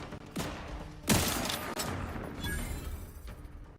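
Gunfire while shooting enemies at a camp in the video game The Outer Worlds 2: a few sharp shots, one loud burst near the middle, over game ambience.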